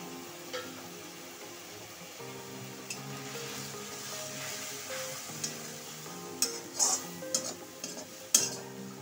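Ground coriander, cumin and turmeric powder with salt and coriander paste frying in a pan while being stirred, giving a steady close sizzle with scraping spoon strokes and a few sharper clinks near the end.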